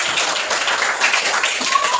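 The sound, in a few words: classroom applause for students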